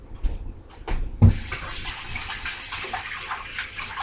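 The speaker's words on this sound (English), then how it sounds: "Just gonna rinse my hands real quick over here." Hands rinsed under a running tap while preparing bokashi bran: a short splash and knock, then a steady, moderately close gush of water with no speech.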